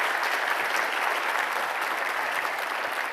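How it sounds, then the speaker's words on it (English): A conference audience applauds a presenter at the close of a session: dense, steady clapping from a full room, loud and unbroken for the whole stretch with no voices over it. "let's give him one more round of applause"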